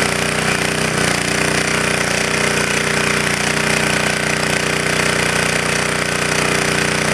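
A propane-fuelled generator engine runs loaded at a steady, loud, close drone, its continuous dense firing clatter holding an even level throughout with no voices.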